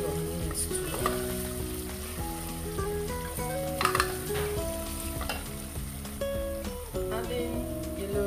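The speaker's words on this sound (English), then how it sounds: "Another big stir. Then let it cook for a couple of minutes too." Spaghetti sauce with thyme sizzles and fries in a pan while it is stirred, a steady close crackle running throughout beneath background music.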